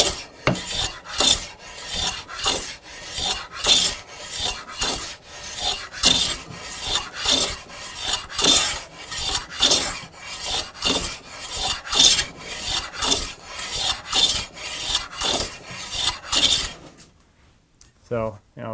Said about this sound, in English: So I've got my jointer plane. This is a number 8. It has a Veritas blade in it, and we'll see if this can cut end grain.